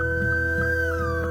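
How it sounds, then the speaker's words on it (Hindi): A drawn-out howl rings out at night in a village, a sustained tonal wail that holds steady and then bends downward, with no barking or talk. "अरे आज ये कुत्ते इतना क्यों भौंक रहे हैं?"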